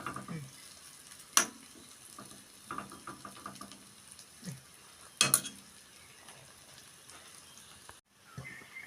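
Raw banana pieces frying in ghee in a pan give a faint, steady sizzle, broken by a few sharp clinks of a utensil stirring against the metal.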